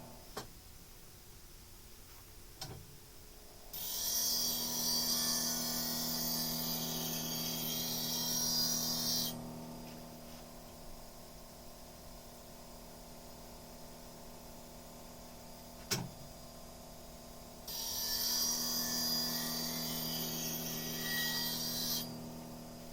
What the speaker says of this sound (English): Grinder going.